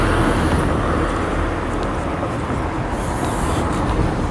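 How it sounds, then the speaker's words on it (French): Steady stream of cars passing on a busy road beside the Seine, a continuous broadband traffic roar with no pauses, fairly close and loud throughout. "Vous entendez les voitures?"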